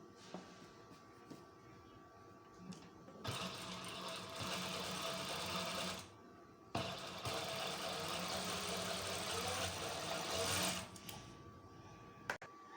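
A sewing machine stitches around the collar of a shirt in two sustained runs of fast, even whirring, separated by a short pause, with quiet moments before and after.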